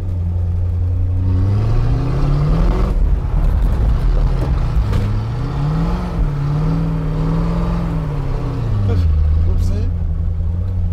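A V8 Plymouth Barracuda engine rising and falling in pitch as the car slides and drifts, loud and close with rhythmic revving swells, while someone talks over it.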